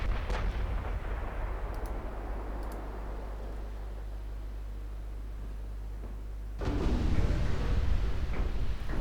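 Heavy battleship turret guns boom during a naval warfare video game, a low sustained rumble with a deep blast near the end that leaves the rumble louder and rougher. No one speaks.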